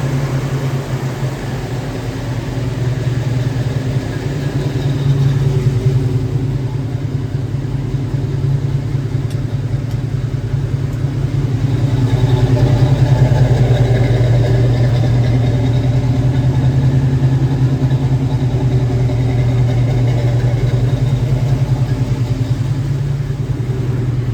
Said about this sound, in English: There she kicked down off high idle.